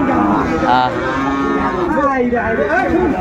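Cattle at a busy livestock market moo loudly and repeatedly, with several drawn-out calls overlapping across the clip amid a dense, noisy crowd background.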